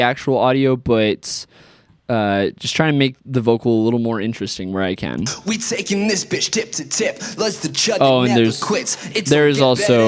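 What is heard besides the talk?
No everyday noise stands out behind the speech.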